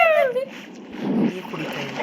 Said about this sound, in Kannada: ನೀರು ಕುಡಿತಾ ಇದೆ.